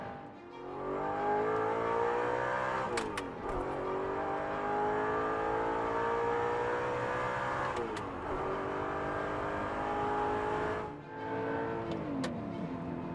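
An Audi R8 Type 42 with a six-speed gated manual revs hard toward 7,000–8,000 RPM, its engine note climbing loud and close through long pulls, broken by sharp gear-shift pauses before each rise resumes.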